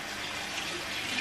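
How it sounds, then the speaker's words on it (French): Tap water runs steadily for rinsing a face with warm water at a bathroom sink, a continuous close hiss with no talk. "Je vais rincer mon visage à l'eau chaude"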